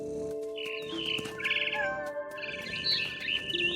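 A mother bird in What Remains of Edith Finch chirps and tweets in quick bright bursts over a faint ambient bed with low tonal drones, close and fairly clear, with no voices.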